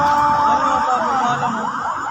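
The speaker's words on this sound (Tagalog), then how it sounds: "Yung ambulansya dito siya, oh." An ambulance siren wails loud and close at a roadside accident scene, with its sweeping tone steady for the whole stretch and no talk over it.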